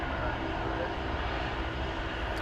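An airliner at DFW Airport departing on a long-haul flight to Sydney, a steady loud engine roar sustained throughout with no breaks, no voices.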